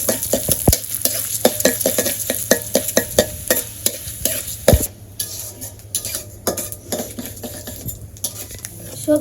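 Oil with bay leaves sizzling in a pan in a village kitchen, a continuous crackling hiss overlaid by frequent sharp clinks and scrapes of a utensil against the pan, close and fairly loud.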